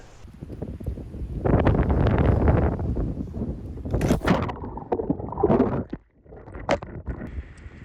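Loud buffeting wind roars across the microphone in heavy bursts on an old fishing boat on the water, with splashing and knocking sounds mixed in as a tripod falls into the water, then briefly drops away before gusting again.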